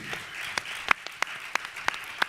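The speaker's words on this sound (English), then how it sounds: "Give him another hand clap of praise" Thin, scattered hand claps from an audience at a National Action Network convention, sharp separate claps spaced out over a couple of seconds, fairly quiet and without talk.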